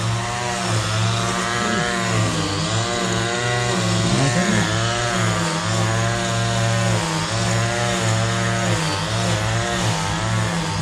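Spirit box radio sweep during a paranormal investigation: a constant, buzzing, engine-like drone of scanned static with wavering pitched tones, steady and fairly loud throughout with no clear voices.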